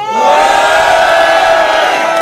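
A large crowd at a rap battle roars with sustained cheering and shouting, loud and continuous throughout.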